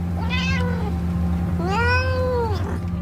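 Two drawn-out, wavering meows from several cats in a filthy hoarder house, the second longer and louder, close by over a low steady hum.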